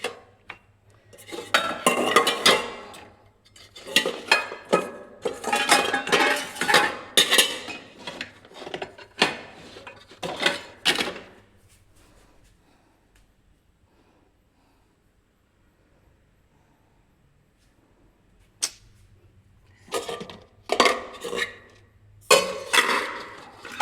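Small plates and dishes clink and clatter in close, busy bursts, falling silent for several seconds midway before a few more sharp knocks return.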